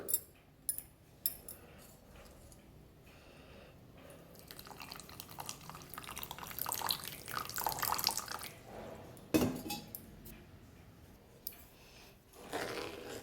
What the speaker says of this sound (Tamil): இந்த நாட்டு சர்க்கரையை நம்ம என்ன பண்ணலாம் கொஞ்சம் தண்ணி ஊற்றி கொஞ்சம் லைட்டாக கரைச்சிக்கலாம்